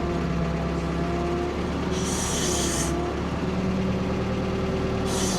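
A vehicle engine runs at a steady mid-pitched drone near a dead spruce being felled, with two bursts of higher-pitched whine partway through and at the end, no voices.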